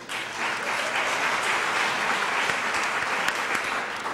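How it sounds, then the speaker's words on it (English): A college day celebration audience applauds steadily, a dense, sustained clapping that stays loud and even throughout without any speech. "Let's give all these individuals a round of applause."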